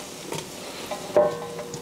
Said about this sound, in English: All right, I'm going to dump them in my big old stock pot here.